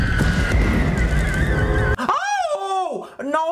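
A horse in the film Nope whinnies loudly and shakily with a rising and falling pitch, following a stretch of noisy background chatter.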